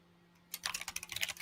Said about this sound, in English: Fowler, you better be figuring out what's wrong and not typing to someone.